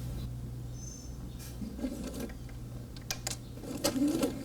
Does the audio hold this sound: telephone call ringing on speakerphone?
no